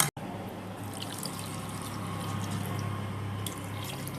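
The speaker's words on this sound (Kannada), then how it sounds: "ಈಗ ಸ್ವಲ್ಪ ನಾನು ಕಡ್ದು ಮಜ್ಜಿಗೆ ಹಾಕೋತಾ ಇದ್ದೀನಿ" Thin buttermilk pours into rava idli batter in a bowl as a soft, continuous trickle. The sound is faint and quiet, with one short click at the start.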